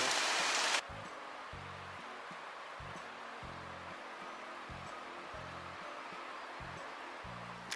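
A heavy rain shower falls on the streets of Plovdiv, Bulgaria, a steady close hiss with a low rumbling thrum beneath it.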